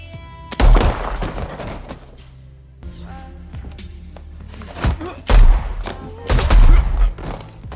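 Gunfire exchange in an action film scene: loud, heavy bursts of shots and impacts come in several clustered volleys separated by brief lulls, with a muffled voice underneath.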